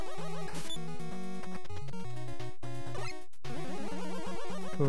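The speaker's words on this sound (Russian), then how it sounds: "Это звук уничтожения врагов странный." Chiptune enemy-destruction effects from the NES game Mega Man 5, with bursts of bleeping square-wave tones and short noisy crashes layered over busy 8-bit game music, playing alone without talk.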